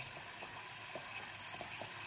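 Water running from a tap while a face and a razor are rinsed at a sink, a steady close hiss of flowing water with a few faint splashes and clinks.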